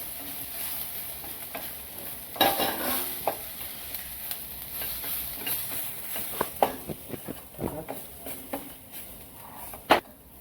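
Turmeric, asafoetida and ground coriander, fennel and carom seed fry in a pan, giving a soft steady sizzle with intermittent stirring scrapes and a louder knock near the end, close up with no voices.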